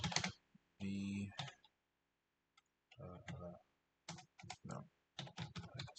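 Bursts of computer keyboard typing into a terminal while configuring a secure connection between cloud networks; quick clusters of close clicks alternate with brief pauses, and a person talks between them.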